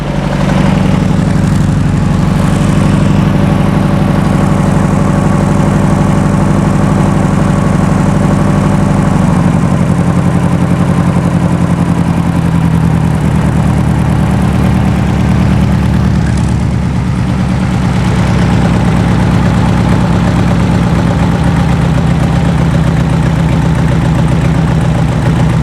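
A 2.2L engine with dual 44 IDF carburetors in a circa-1970 sand rail idles steadily and loudly up close for the whole stretch, a low rough rumble that shifts slightly in pitch partway through.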